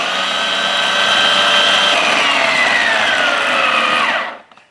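A food processor whirs steadily at high speed for about four seconds, blending a fruit and nut energy ball mix, its pitch sliding slightly before it cuts off abruptly into near silence.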